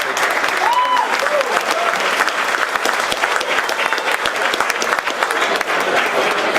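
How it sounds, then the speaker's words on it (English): Audience at an appreciation dinner applauding the nominees, dense loud clapping filling the room steadily throughout, with a faint whoop or cheer early on. "So let's give up a round of applause for all the nominees."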